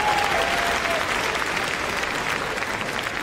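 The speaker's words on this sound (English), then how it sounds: "big round of applause as they come across the finishing line" A large arena crowd applauds loudly and continuously as a small-dog agility team from a Shetland Sheepdog club crosses the finish line at Crufts 2018, with a faint voice briefly heard under the clapping.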